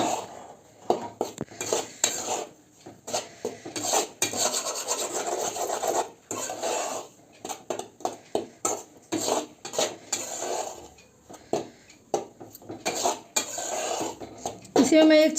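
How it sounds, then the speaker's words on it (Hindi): Metal spoon scraping and rubbing around a hot kadhai while roasting wheat flour for gond laddu, a continuous rhythmic gritty scraping with occasional clinks, close and loud. "अभी कढ़ाई गर्म है इसलिए मैं इसे चलाते जा रही हूँ।"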